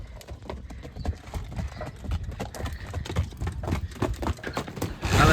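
Horse hooves clip-clop in a quick, steady rhythm throughout, close and fairly loud, with brief voices mixed in.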